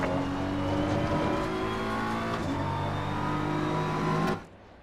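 A BMW race car engine in Assetto Corsa Competizione holds a loud, steady high-revving drone with shifting tones, then cuts off abruptly near the end, leaving only faint background.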